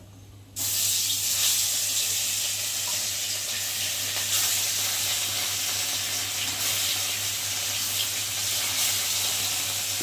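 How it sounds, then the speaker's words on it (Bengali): Chili-marinated rohu fish pieces dropped into hot oil, bursting into a loud, close sizzle after a brief quiet moment and then frying on steadily over a low hum, without talk. "চলো এখন আমি এক এক করে মাছ ভাজবো।"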